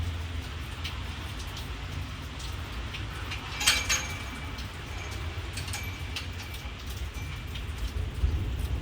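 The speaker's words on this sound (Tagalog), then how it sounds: "Ulan ang unog yelo." Large hailstones fall with heavy rain in a steady, dense patter, with sharper scattered impacts standing out now and then throughout.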